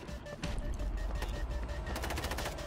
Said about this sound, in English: I got an auto turret running.